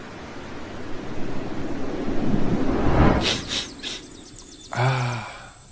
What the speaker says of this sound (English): activate ocean sound